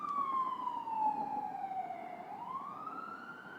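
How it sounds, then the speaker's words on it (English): A siren wails steadily, its pitch sliding down and then back up as an emergency vehicle passes during a police press briefing in New Orleans, loud over low traffic rumble. "I'll let the siren pass."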